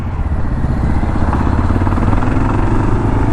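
A 2022 Kawasaki KLR 650 motorcycle engine runs loud and close with a steady low rumble and rapid firing pulses throughout, and no talk over it.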